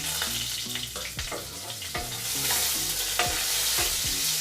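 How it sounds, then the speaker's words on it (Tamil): Onions fry in hot oil for tempering a drumstick leaves sambar, giving a close, continuous sizzle broken by rhythmic scraping stirs of a spoon in the pan. "அந்த வெங்காயத்தை வந்து தாளிக்கு போட போகிறோம்."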